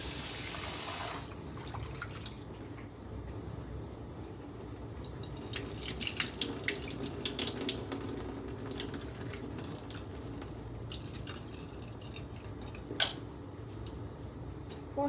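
Tap water running over sabudana (sago pearls) being rinsed in a bowl, a steady close splashing trickle with a few sharper drips and sloshes.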